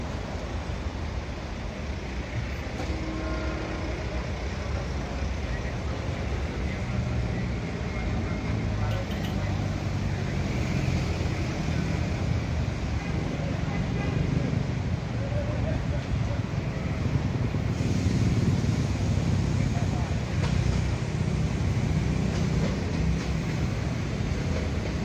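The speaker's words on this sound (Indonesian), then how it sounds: "sedang dipersiapkan KRL Komuter Line yang akan diberangkatkan kembali dari stasiun" A KRL Commuter Line electric train near Jatinegara station rumbles steadily and loudly for the whole stretch, a dense broadband roar with wind-like hiss and no clear break.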